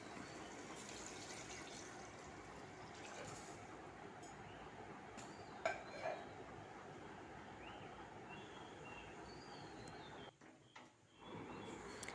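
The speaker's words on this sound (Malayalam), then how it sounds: "ഇനി ഇതിലേക്ക് ചേർക്കേണ്ടത് പച്ചവെള്ളമാണ്." Plain water poured into a pressure cooker holding rice for chicken biryani, a steady broadband gushing pour running close and fairly loud for most of the stretch before briefly cutting off near the end.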